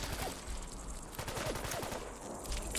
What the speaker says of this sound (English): we're going to shoot some stuff